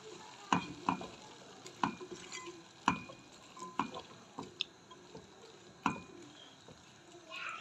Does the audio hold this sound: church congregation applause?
no